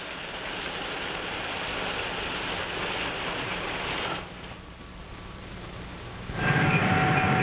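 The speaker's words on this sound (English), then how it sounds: "passenger cars are pulled through an automatic washing machine where they're scrubbed" Passenger train cars roll through an automatic car washer in a railroad yard. A steady rumbling rush runs throughout, briefly drops lower, then returns louder with a thin whining tone.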